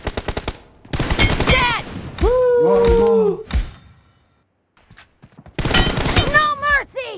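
Rapid bursts of gunfire in PUBG ring out in quick, loud volleys, broken by a short pause, with brief spoken words heard between the shots.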